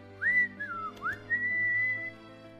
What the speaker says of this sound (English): I turned away and started whistling